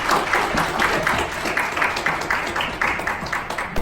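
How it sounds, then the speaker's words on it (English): A studio audience at a business networking show claps steadily for several seconds in a dense, even wash of applause with no talk over it. "Another round of applause for Rick and Natascha."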